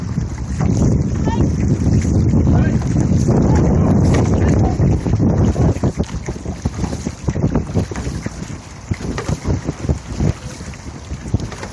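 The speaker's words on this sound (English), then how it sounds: "Drag your paddles, Roberto." Canoe paddles drag through the water during a 2012 canoe outing, a rushing, splashing wash under heavy wind buffeting at the microphone, with a voice talking in between.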